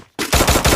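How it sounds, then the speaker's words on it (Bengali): Rapid automatic gunfire from an enemy in a squad shooter video game, a loud, close burst of about four sharp shots in quick rhythm after a brief quiet moment, with no talk. "এনিমি এই এখন ফায়ার দিচ্ছে"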